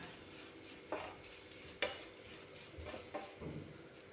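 Soft sizzling of grated coconut roasting in oil in a pan, with a few sharp scraping strokes of a spoon stirring, quiet and close.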